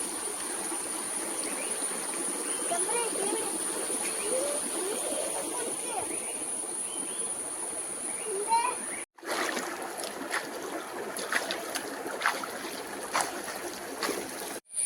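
Water in a stream splashes and trickles steadily as people bathe in it, a close rushing wash with brief louder splashes and a short break partway through.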